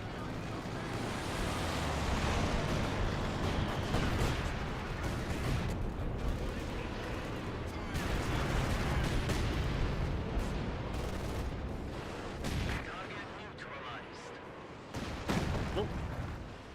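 Katyusha rocket artillery fires in a Company of Heroes battle, a long roaring, rumbling barrage that rises and falls in waves before breaking into sharper, separate blasts toward the end.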